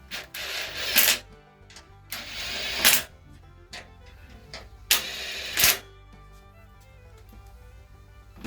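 A small Ryobi drill driver on its lowest torque setting tightens bolts on a Cub Cadet mower deck, giving several short whirring bursts close by, separated by quiet pauses.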